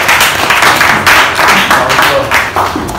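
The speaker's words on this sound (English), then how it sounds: "So clap for them." A church congregation claps together in a steady, dense burst of applause that carries on throughout, loud and close, with faint voices mixed in underneath.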